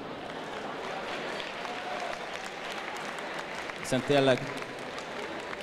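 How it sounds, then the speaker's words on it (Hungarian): Applause from a crowd at a Hungarian school graduation ball, steady clapping throughout with a brief spoken voice rising over it near the end. "Tapsolhatjuk őket is most."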